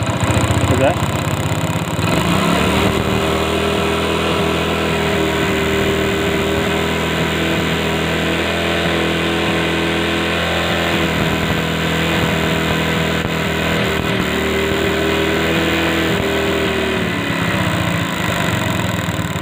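A motorcycle engine idles steadily and loudly during a spark test for a starting problem, a constant mechanical hum that swells slightly near the end.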